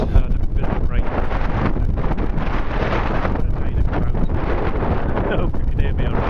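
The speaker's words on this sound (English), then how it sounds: "very windy day." Heavy wind buffeting the microphone, a constant loud rumbling roar that lasts throughout with no pauses.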